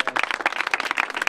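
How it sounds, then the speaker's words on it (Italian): An audience applauds, a dense, even patter of many hands clapping at moderate volume, steady throughout the short stretch with no voices. "vi chiedo di fare un applauso"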